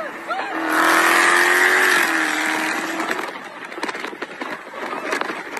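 A Dodge Charger Hellcat accelerates hard during street racing, a loud rising engine whine and roar that peaks early and then breaks into rougher, fluctuating noise as it pulls away.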